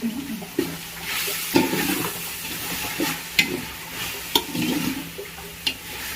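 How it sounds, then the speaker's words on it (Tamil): Mint and coriander leaves are sautéed in a pan for mutton biryani, with a soft sizzle under repeated scraping stirs that land roughly once a second, close by. "கொத்தமல்லியும் புதினாவும் கொத்தமல்லியும் போட்டு நல்லா வதக்கிக்கணும்"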